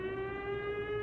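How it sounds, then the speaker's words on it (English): A siren in a video game wails at a steady pitch with layered harmonic tones, holding constant and fairly faint for about a second with no speech over it. "The siren is still going off."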